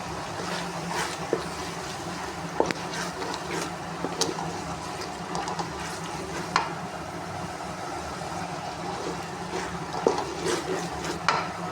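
Black-eyed peas (lobia) fry in a masala gravy in a pan, a soft continuous sizzle broken by scattered clacks and scrapes of stirring, fairly quiet and close with no talking.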